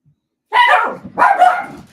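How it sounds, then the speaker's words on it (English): Dogs indoors bark in two quick rough bursts, close and fairly loud, after a moment of near silence, with no talking. "The dogs. All right. I'll be right back. What are you barking at?"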